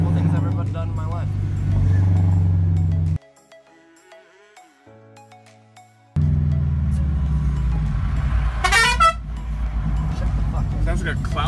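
A car horn honking in traffic, sounding with a comic, clownish tone amid engine noise and road rumble, cutting out abruptly for a few seconds before the traffic din returns with a high squeaky burst.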